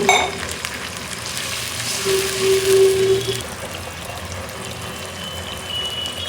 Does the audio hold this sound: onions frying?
yes